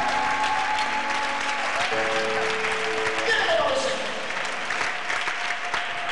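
A congregation applauding during a French-language sermon, steady full-room clapping and crowd noise that holds for several seconds, with a few voices calling out above it.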